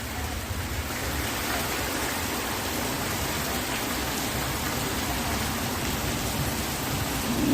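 Heavy monsoon rain pours down steadily in a village setting, a dense, continuous hiss close by that holds at the same loud level throughout, with no voices.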